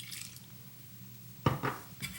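Cold water is poured into sourdough starter in a bowl: after a quiet stretch comes a short, close splash and gurgle with a clink of the vessel, then a faint trickle.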